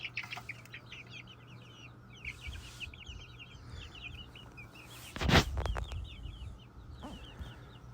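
Young chickens on a farm cluck and chirp steadily over a low background hum, with one louder close knock or bump midway and no talk.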